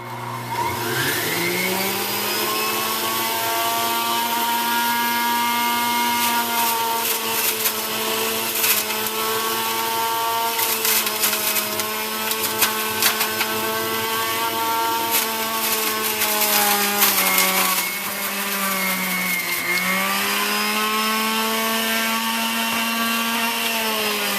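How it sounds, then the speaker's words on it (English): A juicer grinds cucumber, apples and ginger, a loud steady motor whine that runs without a break and dips in pitch a few times as the produce is pushed through, with occasional rubbing and crunching on top. "This is the juicing part."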